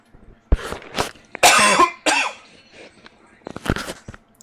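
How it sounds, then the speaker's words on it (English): A streamer coughs several times straight into a live microphone during a farming game session, loud harsh close bursts with throat clearing between them. "I hope that cough isn't too loud for you guys"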